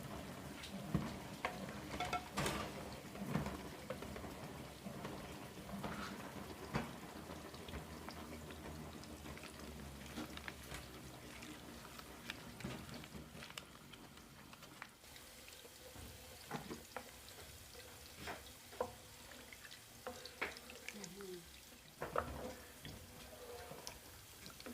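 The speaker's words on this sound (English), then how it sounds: "So we are frying our chunks now." Chunks frying hard in oil for a large pot of party jollof rice, with a steady sizzle broken by clinks and scrapes of stirring, going on without pause and with no voice heard.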